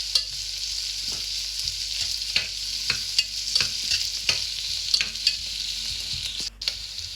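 Green chilies with a little salt sizzling in a frying pan, a steady hiss under regular scraping taps of a spoon stirring them, close up with no talk.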